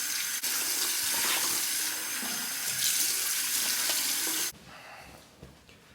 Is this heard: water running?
yes